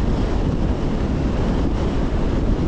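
Strong coastal wind blowing steadily at Little Batanes in Pagudpud during a super typhoon, a loud unbroken roar buffeting the microphone with surf-like rushing and no talking.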